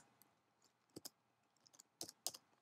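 Sparse, quiet keystrokes on a computer keyboard, a handful of soft clicks in two small clusters, close and faint against a low background hum.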